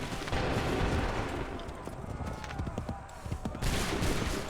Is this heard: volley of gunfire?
yes